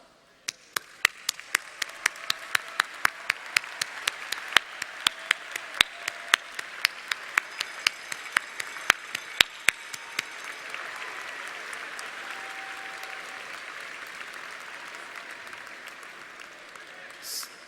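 A commencement audience applauds steadily, a few sharp nearby claps standing out early before the clapping settles into a dense, even wash that fades slightly.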